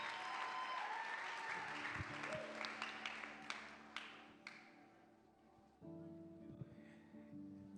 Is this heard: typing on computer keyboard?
no